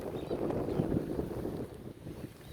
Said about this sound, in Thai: ลมก็แรงดูน้ำนะคะ